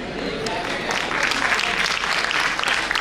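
Audience at an Urdu mushaira for Independence Day breaking into sustained applause, a crowd of hands clapping steadily for a few seconds, with a voice faintly present underneath.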